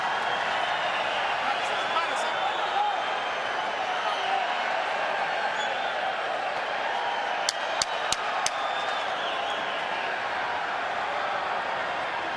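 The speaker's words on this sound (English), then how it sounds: "Very active crowd, I'll say that." A fired-up boxing crowd roars inside the MGM arena during the Marquez versus Casamayor fight, a steady distant wash of cheering that fills the whole clip, with a few sharp knocks near the end and a commentator talking over it.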